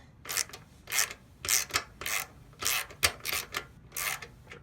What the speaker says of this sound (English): I've got this crazy long extension and the ratchet so I can clear the fuel pump